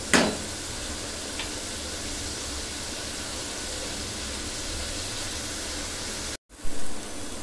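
Onion and spice masala for chicken bhuna sizzles steadily in a pan, a constant soft frying hiss with a brief clatter at the start and a short break near the end.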